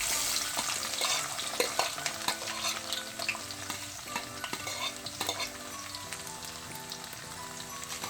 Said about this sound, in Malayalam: കടുക് പൊട്ടി വന്നിട്ടുണ്ടെങ്കിൽ നമുക്കിതിലേക്ക് വെളുത്തുള്ളി ഇട്ട് കൊടുക്കാം